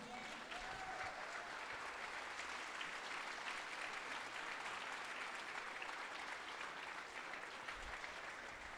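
A church congregation gives a sustained round of applause to Jesus during a Spanish-language sermon, many hands clapping in a thick, even wash that stays steady and fairly distant for several seconds.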